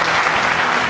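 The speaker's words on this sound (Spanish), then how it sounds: "Fuerte el aplauso" A studio audience applauds loudly and steadily on a talk show as an author is welcomed, a dense, continuous burst of clapping close by.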